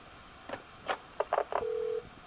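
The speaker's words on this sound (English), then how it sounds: "you heard that brief burst of tone there to indicate somebody's entering the conference" A few short electronic beeps and tone bursts on a quiet phone line, ending in a steady tone lasting under half a second, signalling a party entering a conference call.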